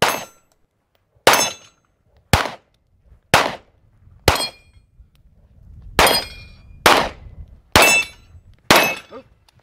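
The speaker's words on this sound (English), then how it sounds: "I get a click, rack it, and begin to engage the pistol targets" Pistol shots ring out at targets on a 2019 Desert Brutality match stage, nine sharp cracks in two uneven bursts, each loud and close with a brief ringing tail and quiet gaps between.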